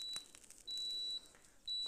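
Short electronic beeps from a mixer or stove switching off sound in a kitchen, a brief chirp followed by a longer tone and another beginning, faint and thin against quiet room noise.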